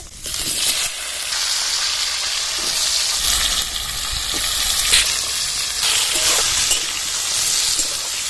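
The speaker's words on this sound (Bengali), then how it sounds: "তেলটা গরম হয়ে গেছে শুকনো লঙ্কা পাঁচফোড়ন আর তেজপাতা দিয়ে দিচ্ছি কেটে রাখা পেঁপে আর আলু দিয়ে দেবো" Papaya and potato pieces frying in hot oil with dried red chillies, panch phoron and bay leaves, a loud continuous close sizzle and hiss that surges as the vegetables settle, with faint stirring.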